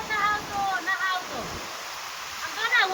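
Floodwater from a stream overflowing both banks after a heavy downpour, a broad steady rushing roar close by, with someone talking over it.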